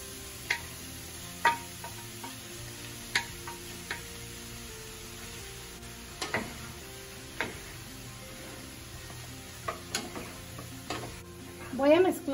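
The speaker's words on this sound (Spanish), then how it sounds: "Voy a mezclar perfectamente para que se incorporen todos los ingredientes con el arroz." Rice with peas and other ingredients gets stirred in a frying pan: a low sizzle continues under scattered spoon scrapes and clinks against the pan, ending in a louder burst of scraping.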